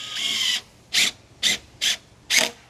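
Screws driven into a DIY overland drawer system built without welding, heard as one longer grinding turn followed by four short, evenly spaced rasping bursts, close and loud with quiet gaps and no talking.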